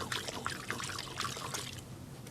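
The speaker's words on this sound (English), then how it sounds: "Okay, I'll wash this brush." A paintbrush is swished and rinsed in a container of liquid during oil painting, giving a short, soft trickling and sloshing close up, with no voices.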